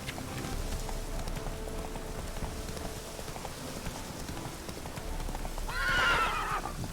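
Roach, the horse in The Witcher 3: Hearts of Stone, clip-clops away over a soft rain-like ambience, then gives a loud, close whinny near the end.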